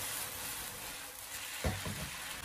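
Potatoes and green beans stir-fried in a thickening sauce give a steady broadband sizzle, with a couple of spatula scrapes and clatters near the end.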